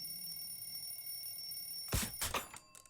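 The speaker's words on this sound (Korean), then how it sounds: "잔잔하게 가다가 알람이 울리면은" An alarm rings out in a Korean animation, a sudden loud ringing burst with a thump breaking a quiet, humming background, then a second shorter burst before fading.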